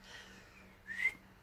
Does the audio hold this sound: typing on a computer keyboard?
no